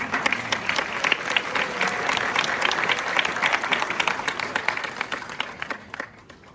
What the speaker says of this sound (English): Ladies and gentlemen, round of applause once again.